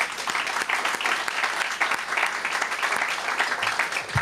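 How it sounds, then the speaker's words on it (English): Audience applause at a community college campus ribbon cutting ceremony, steady dense clapping from a gathered crowd, sustained and even at moderate loudness. "Kim Ford, let's give her a special round of applause"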